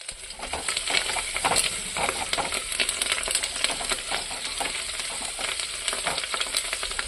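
Onions and curry leaves sauté in a pan, a bright, busy sizzle with rapid spitting crackles and occasional stirring scrapes, close and steady for the whole stretch without speech.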